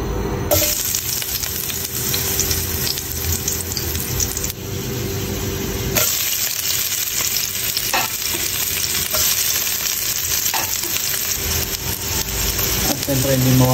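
Garlic sautés in a pan as the base for crab cooked in coconut milk, a loud, continuous close sizzle with stirring scrapes and occasional light clinks of a utensil.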